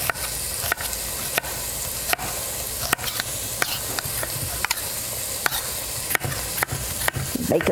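Bacon crisping in a pan gives off a steady broadband sizzle and hiss, with sharp pops and utensil clicks scattered throughout, close and fairly loud, with no talking.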